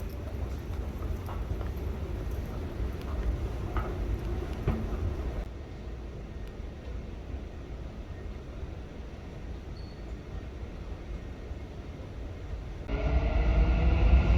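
Driverless Dubai Metro Red Line train heard from inside: a quiet, steady low rumble with faint clatter, easing slightly midway and then swelling louder near the end, with no one speaking.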